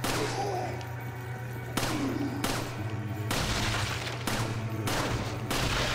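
Gunfire from the player's gun in Resident Evil 4, six loud separate shots at irregular intervals over a steady low hum, each with a brief ringing tail, no voices.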